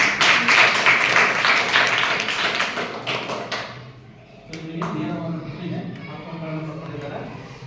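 A school audience at a Chandrayaan 3 quiz competition breaks into dense, loud applause that lasts several seconds, then fades out as a speaker starts talking over a quieter hall.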